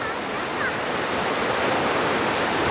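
Mountain river rushing steadily in a highland valley, a loud, continuous broadband roar of flowing water with no break across the whole stretch.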